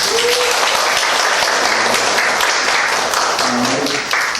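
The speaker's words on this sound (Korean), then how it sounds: "우리 박수로 환영합시다." A church congregation claps to welcome visitors at a Thanksgiving service, a loud, sustained patter of many hands filling the room, tapering slightly near the end with faint voices underneath.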